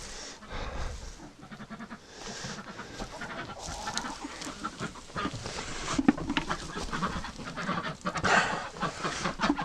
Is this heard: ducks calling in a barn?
yes